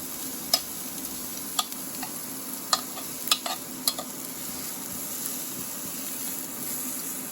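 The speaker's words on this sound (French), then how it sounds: "Je fais chauffer un petit peu d'huile dans une poêle à feu moyen. Et je viens ajouter mes oignons." Onions go into a pan of oil heating over medium flame, giving a steady, moderate sizzle with several sharp utensil clicks early on before settling into an even hiss.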